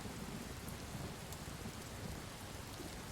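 Steady rain falls through a storm with low rumbles of thunder, a constant wash of noise heard at moderate distance with no voices.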